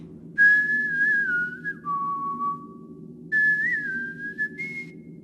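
A video game rebel whistles the G-Man tune as a voice line: two clear, melodic whistled phrases with gliding, wavering pitch and a short gap between them.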